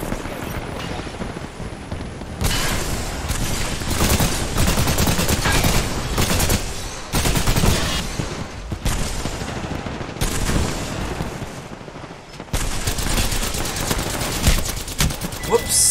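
Rapid, sustained gunfire from the Alstar gun in the Apex Legends video game, firing in long dense bursts with brief pauses, loud and close throughout the clip.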